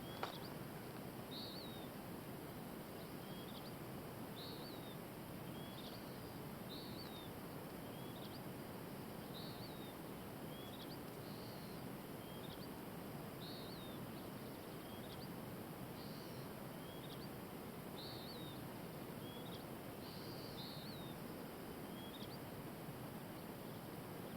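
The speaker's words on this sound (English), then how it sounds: "And they make little beautiful bird songs." Outdoors in Prescott, Arizona, a small bird repeats a faint, high chirping call at a steady, regular pace against a constant hiss of wind or insect noise.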